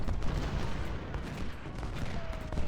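Dense, continuous musket volleys crackle across a Civil War battlefield in Ultimate General: Civil War at the Battle of Chancellorsville, a steady loud roar of massed fire with no clear pauses.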